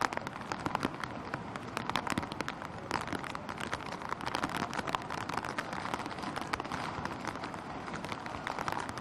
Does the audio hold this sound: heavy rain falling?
yes